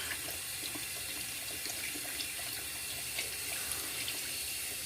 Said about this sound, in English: Now I'm putting it to the side like this, making it, rinsing it on the sides to make sure all that soap is out of there